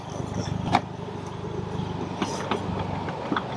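Car engine fitted with a muffler delete, a low, steady exhaust rumble heard from inside the vehicle at a moderate level with a few brief knocks.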